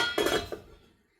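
A cooking-pan lid is set down over a broccoli egg omelette with a quick metallic clatter and a couple of clinks, ringing briefly before fading out.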